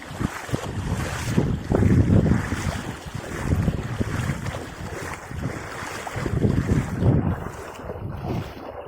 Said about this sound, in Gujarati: વરસાદ હવે અતિશય પડી ગયો